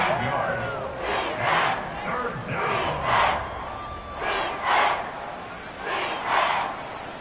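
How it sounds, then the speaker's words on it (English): A simulated stadium crowd at Arrowhead during a Chargers–Chiefs NFL football game in Madden 25 roars loudly in surging rhythmic waves, chanting and swelling repeatedly over several seconds, with the crowd noise carrying on continuously. "The Arrowhead crowd in full roar"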